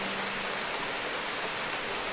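Hail hammers down in the Cariboo region in June, a dense, steady roar of hard pellets striking surfaces with no pause.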